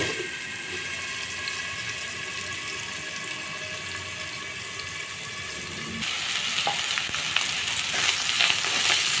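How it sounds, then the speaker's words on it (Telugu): Bitter gourd pieces fry in a pan with a continuous hissing sizzle that grows louder and brighter partway through, with faint stirring underneath. "బాగా ఫ్రై అవుతుందండి కాకరకాయలు."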